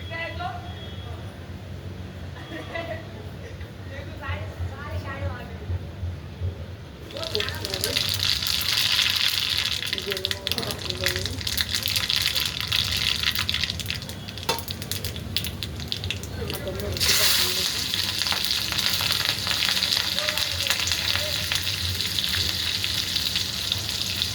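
Hot mustard-seed tempering oil hits besan-and-semolina dhokla and bursts into loud, crackling sizzles in two surges, with a person talking softly before and between them.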